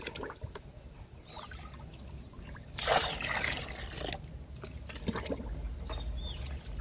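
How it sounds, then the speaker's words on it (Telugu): Liquid fertilizer mixed half and half with water is poured onto vegetable plants, a soft trickle that swells into a brief louder gush and then settles back to a quiet dribble. "ఇందులో కూడా పోస్తున్నా లిక్విడ్ని"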